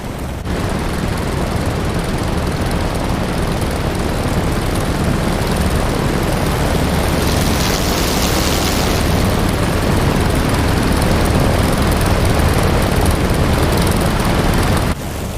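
Propeller-driven warbird aircraft taxiing on the ground in the DCS World flight simulator, a steady, loud, droning engine and prop roar that holds throughout without talk, swelling slightly midway before cutting down at the end.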